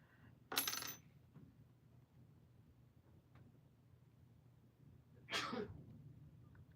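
Two sudden, sharp bursts, a sneeze and another sneeze-like burst, several seconds apart, over a quiet room hum with no talking.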